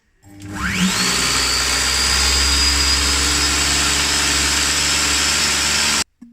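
A kitchen food processor whirs up to speed 10 blending homemade Nutella, a loud steady high-pitched motor roar that ramps up within the first second, holds constant for about five seconds, then cuts off abruptly.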